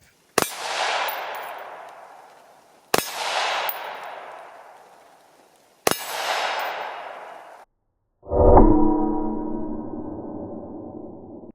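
Three M855 ball rounds fired from a 20-inch barrel rifle into a Predator Level III+ armor plate, three sharp loud cracks each ringing with metallic decay, followed by a lower clanging impact.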